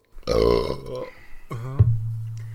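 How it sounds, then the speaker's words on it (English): A man lets out a long belch, loud and close, with a drawn-out low rumbling tail that fills most of the short moment. "just letting out a belch"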